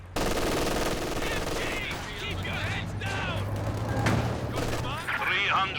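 Sustained machine gun bursts crackle through a Company of Heroes 2 battle, with dense rapid firing, scattered distant booms and shell impacts, loud and continuous across the scene with no speech.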